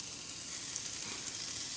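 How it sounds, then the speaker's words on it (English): Bluegill fish sizzling in hot oil in a pan, a steady, dense hiss of frying that holds evenly throughout with no talk over it. "You want the oil to be hot enough that it just sizzles as soon as it gets on."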